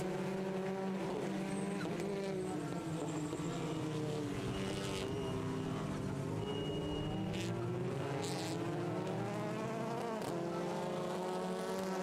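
TCR touring race cars accelerate out of a hairpin at Autodrom Most, several engines rising and overlapping in loud, buzzing, climbing tones as the pack pulls away, continuous throughout.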